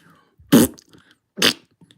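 A voice imitates fart noises as if toy guns were shooting, two short blurted bursts about a second apart, close and fairly loud against quiet.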